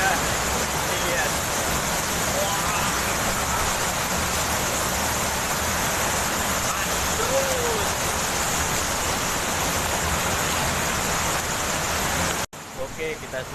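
A twin waterfall at the foot of Mount Raung, in rainy weather, produces a steady, dense rushing roar of falling water that continues evenly before cutting off abruptly near the end.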